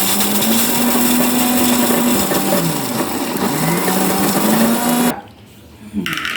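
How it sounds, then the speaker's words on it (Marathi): Mixer grinder grinding dry grated coconut: a loud, steady whirring motor whine that wavers in pitch for about five seconds, then cuts off abruptly, leaving a brief quiet gap before a short restart. "पहिलं खोबरं बारीक करून घेऊया हे थोडंसं वाटून घेऊया आपण हे"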